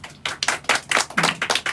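Audience at a Cantonese stand-up comedy show clapping along: a small crowd's brisk, rhythmic applause of about a dozen quick claps in steady succession, fairly close and loud, with no talking.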